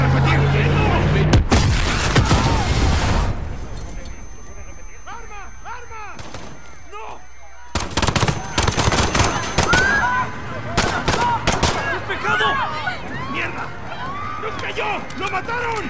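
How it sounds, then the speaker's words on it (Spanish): Gunfire and explosions from the Call of Duty: Modern Warfare (2019) campaign at Piccadilly Circus: loud bursts of rapid shots and heavy booms, a quieter stretch, then renewed dense firing under shouting voices. "Hubo una explosión en Piccadilly Circus. Hay disparos, oficiales abatidos."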